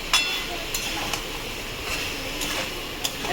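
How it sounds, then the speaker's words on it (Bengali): Boiled soybean chunks frying with spices in a pan, a soft steady sizzle with a few scraping stirs recurring at intervals, fairly close. "এবার এটাকে ভালো করে নাড়াচাড়া করে কষবো, যাতে মশলাটা ঢুকে সয়াবিনটার ভেতরে।"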